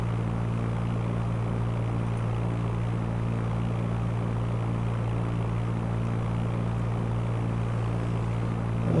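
Propeller aircraft engine in the Fly! II flight simulator game during a cruise from Willard to Peoria, a steady, continuous droning hum with a low tonal throb, constant and unchanging throughout.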